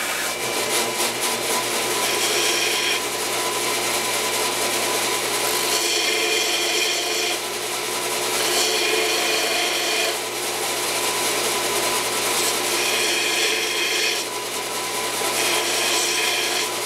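Steady rasping of a metal motorcycle camera mount's edges being sanded true, a continuous close scraping texture with rhythmic strokes and slight pulsing every few seconds, no voices.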